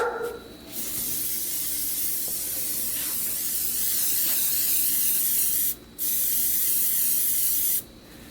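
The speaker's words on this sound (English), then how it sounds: "hit it with some spray paint" Long continuous hiss of an aerosol spray paint can coating a surfcasting fishing lure, steady and fairly loud, broken by two brief pauses between bursts.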